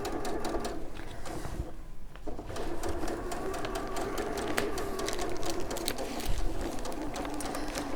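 A sewing machine tacks a fabric seam in place, its needle chattering in a fast, even mechanical rhythm that runs close and moderately loud, with a brief pause near the middle.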